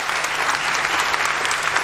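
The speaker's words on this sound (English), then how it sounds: "Big round of applause, Matt Pritchard" Audience applause for vegan chef Matt Pritchard at a cooking demonstration, a dense, steady burst of clapping close by with little else underneath.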